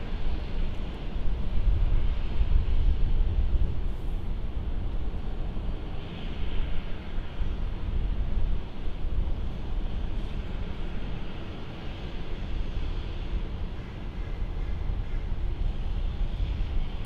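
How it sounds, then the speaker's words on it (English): A Jetstar Airbus A320 airliner arrives at Brisbane Airport, a steady low broadband roar that holds level throughout with a faint wind rush, moderately distant, with no talk over it. "So here's this Jetstar A320 arriving in."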